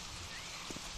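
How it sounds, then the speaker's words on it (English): Rain falls in the Xera: Survival open-world shooter game, a soft steady hiss of drops on surfaces, faint and continuous with a couple of brief thuds. "And now it's raining."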